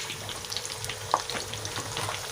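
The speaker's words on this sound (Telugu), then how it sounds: "నేను డీప్ ఫ్రై చేస్తున్నాను కాబట్టి ఆయిల్ ఎక్కువ వేసినాను" Okra (lady finger) deep-frying in plenty of oil gives a steady, dense sizzle and crackle with occasional stirring scrapes, moderately close and without any talk.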